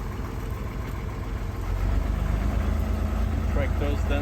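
A tractor engine runs on a farm with chickens nearby, a low rumbling idle that grows louder and steadier partway through, close and continuous, with faint voices in the background.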